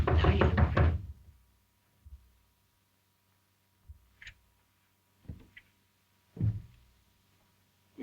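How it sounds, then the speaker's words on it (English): Knocks on a wooden door in a 1929 film: a few soft, muffled raps come spaced apart after a brief burst of other sound, faint and near, with a low hum in between. "I thought I heard a knock."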